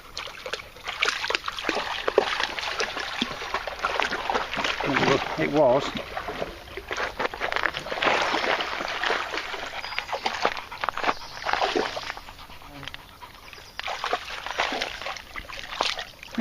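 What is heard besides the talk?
dogs splashing in clear stream water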